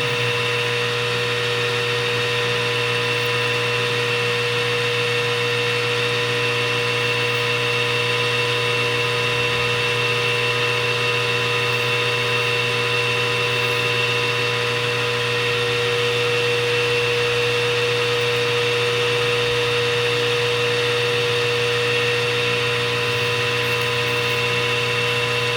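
A lathe runs steadily as it spins a trumpet mouthpiece while sandpaper works the inside of the cup, giving a loud, constant motor whine and hum with a faint rough sanding texture and no talking.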